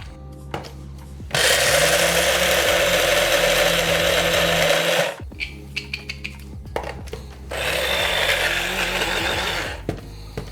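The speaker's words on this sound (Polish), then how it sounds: "tak przygotowane orzeszki miksuję na lekką miazgę" A food processor grinding nuts into a coarse paste, two loud sustained whirring bursts separated by a pause filled with clattering and rattling of the container, close up.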